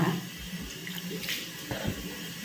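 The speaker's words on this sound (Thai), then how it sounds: "เปิดน้ำแล้วก็กวักใส่หน้าเลยนะจ๊ะ" Tap water runs steadily into a sink while a hand scoops and splashes it onto a face, a continuous close rush broken by a few soft splashes.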